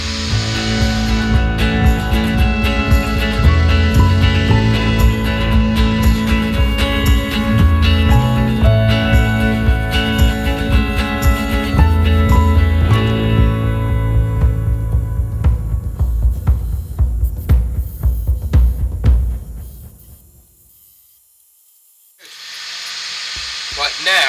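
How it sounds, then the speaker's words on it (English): A wood lathe spins a beech pestle and mortar blank as a diamond-tip parting tool cuts, giving a loud steady tonal whine and hum that runs for about twenty seconds, then drops to near silence before starting again. "speed the lathe up a touch."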